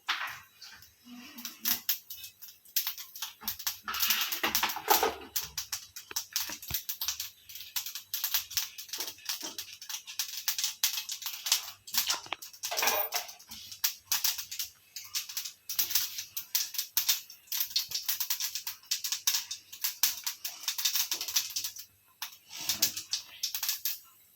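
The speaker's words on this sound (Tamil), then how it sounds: "ஒரு கடாயை வச்சு கொஞ்சமாக எண்ணெய் ஊற்றி கடுகு போட்டுக்கலாம். கடுகு நல்லா பொரியட்டும்." Mustard seeds pop and crackle in a little hot oil in a kadai, a dense stream of sharp, close snapping bursts that keeps going throughout with no talking.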